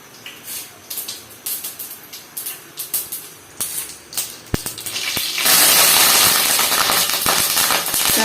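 Curry leaves dropped into hot oil in a Tamil home kitchen while making chilli kolukattai: short crackling spits at first, then a loud, continuous hissing sizzle once the leaves hit the pan.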